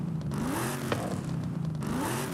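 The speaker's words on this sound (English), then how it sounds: "Sounds like a real muscle car now." A muscle car with an upgraded exhaust revs in Forza Horizon 5, a throaty engine note rising and falling in steady pitch sweeps, close and continuous with no voices over it.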